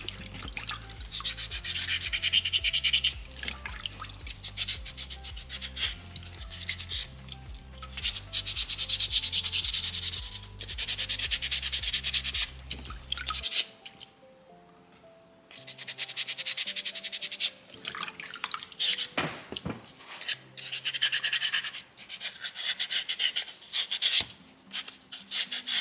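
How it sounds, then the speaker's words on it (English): Soapstone owl carving being sanded by hand with folded black-grit sandpaper, a steady rasping rub in repeated strokes, loud and close, with a short pause midway before the scrubbing resumes; no talking. "Folding my sandpaper up just to make sure that black grit is what's contacting"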